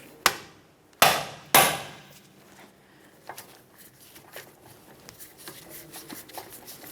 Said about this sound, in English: To remove those screws, I'm using a Phillips head bit driver and a hammer.